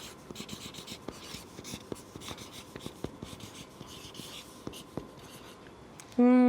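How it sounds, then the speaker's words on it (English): Capital letters being written on a board, a rapid run of close, sharp tapping and scratching marker or chalk strokes, ending with a brief loud tone. "I'm writing these in capital letters"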